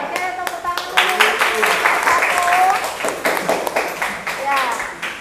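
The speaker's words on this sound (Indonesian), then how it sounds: "Oke, tepuk tangan dulu." Schoolchildren in an Indonesian classroom clap their hands together in a burst of quick, uneven claps, lively and close, with their voices calling out over the clapping.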